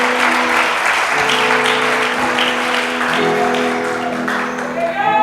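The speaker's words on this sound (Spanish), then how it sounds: "dele un aplauso a ese Dios maravilloso que habita en su corazón" A congregation at a Spanish-language church service claps loudly throughout, while sustained organ or keyboard chords ring beneath the applause.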